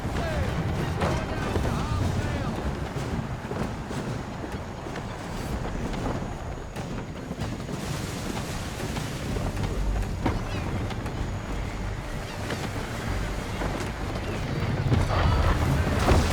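A sailing ship moving through water in Assassin's Creed III, a continuous rushing wash of sea and wind with creaking and occasional knocks, steady and fairly loud, with voices speaking faintly at times beneath.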